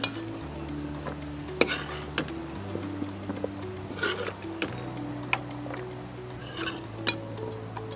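Plates, pans and cutlery clink and clatter in irregular bursts while fried millets for a millet biryani are set aside on a plate, the sharp knocks standing over a steady low kitchen hum.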